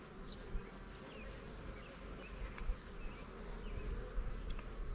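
Bees swarm around an opened hive with exposed larvae, a dense steady buzz close by that swells near the end, with single insects whining past now and then.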